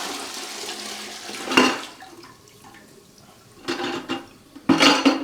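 Dirty water poured out of a Bissell Little Green Pro carpet cleaner's tank, arriving in several splashing gushes that start and stop, close and fairly loud.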